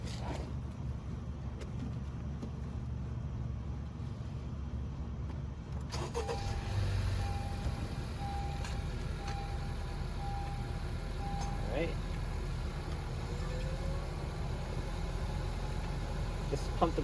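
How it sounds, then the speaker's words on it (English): Honda Civic 10th gen car with freshly replaced front brake pads, starting up with a sudden jump in noise and then settling into a steady, moderately loud idle, with a brief spoken word and small clicks and tones over it. "let's turn on the car and pump the brakes"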